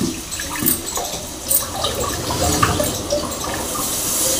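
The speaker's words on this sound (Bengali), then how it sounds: "চলো এদিকে জল দিয়ে দিই" Water splashes and gurgles as it is poured into a cooking pot of fish and pointed gourd curry, a loud running pour with uneven bursts close by.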